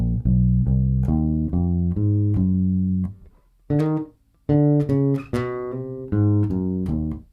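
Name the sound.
bass guitar playing a gospel worship lick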